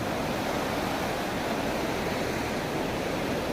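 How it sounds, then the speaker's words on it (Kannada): The Alaknanda river rushing past Badrinath in the Himalayas, a steady, dense roar of flowing water filling the whole clip without a break, loud and close, with no voices. "ನೋಡಿ ಹೆಂಗೆ ಹರಿತಾ ಇದೆ ನೀರು ಅಲಕ್ನಂದ ನದಿ"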